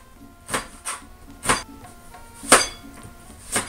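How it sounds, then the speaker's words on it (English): A knife chopping capsicum on a cutting board: a handful of crisp, separate knocks with irregular gaps, five or six distinct close hits with the board ringing briefly after each, no voices. "Cut it in half and simply chop away."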